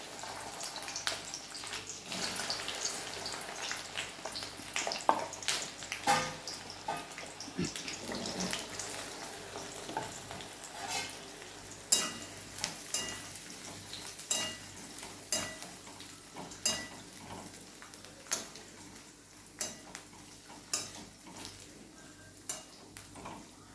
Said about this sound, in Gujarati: તો હવે ગેસની ફ્લેમ સ્લો કરી દીધી છે અને એને તળી લેવાના છે